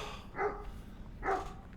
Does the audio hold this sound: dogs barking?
yes